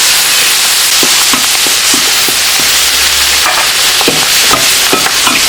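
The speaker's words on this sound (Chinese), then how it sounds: "炒一炒一下这个辣椒" Chopped chillies with garlic and ginger hiss steadily in a hot wok, broken by repeated scrapes and knocks of a spatula tossing them up close.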